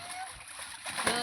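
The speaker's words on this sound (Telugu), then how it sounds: "నా పైన పడుతుంది నీళ్ళు." Water splashes in a small home swimming pool set up for a child, a brief close splash and spatter against a hissy background.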